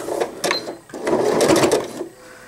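A sewing machine runs in short bursts, stitching back and forth to lock the seam on a fabric reusable nursing pad, close and fairly loud with brief pauses between runs.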